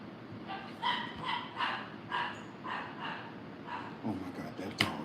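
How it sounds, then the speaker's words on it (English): A dog barks repeatedly in a steady run of sharp yips, moderately close, over a murmuring background with faint voices. "that dog, I swear. That dog always barking."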